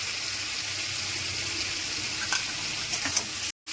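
Sliced ridge gourd with salt and turmeric sizzles steadily in a hot pan, a continuous close frying hiss with a few brief louder crackles near the end.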